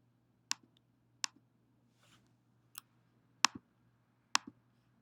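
A computer mouse clicks a run button in a quiet room: about five sharp, close single clicks spaced roughly a second apart over a low steady hum, with no talking.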